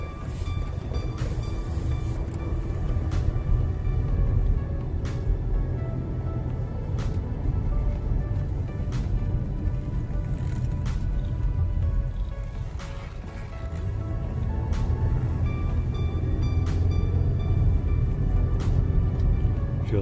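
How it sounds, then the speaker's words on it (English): A 2009 Cadillac SRX4 Premium Luxury Collection with a V6 and all-wheel drive out on a test drive, giving a steady low road and engine rumble with tyre noise from inside the cabin and a few faint clicks. "let's go ahead and take it for a little test spin. Put it in drive, ready to go."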